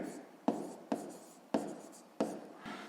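Pen on paper writing out a fifth-grade math division answer, with four or five distinct strokes and scratches in short bursts, close and quiet, with no voice over them.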